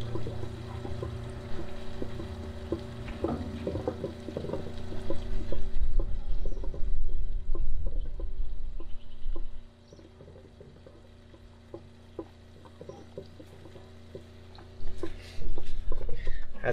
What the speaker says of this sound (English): You'll hear the pump filling it up, and hopefully we get no leaks.